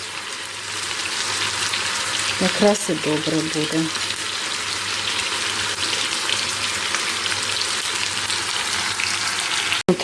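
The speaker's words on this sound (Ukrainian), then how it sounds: "Зараз цибулькою отак от нехай. Воно швиденько смажиться." Steady, loud sizzling of onions frying in a pan, continuous throughout, with a brief voice speaking early on and a sharp clack at the end.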